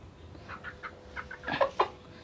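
Three-month-old chickens clucking in a series of short calls, close by and moderately faint, with no talking.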